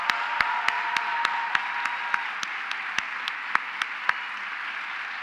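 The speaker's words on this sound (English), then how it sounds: "Could you please join me in another round of applause for John for putting this on?" Audience applause, a steady wash of many hands clapping with a few sharper claps standing out near the front.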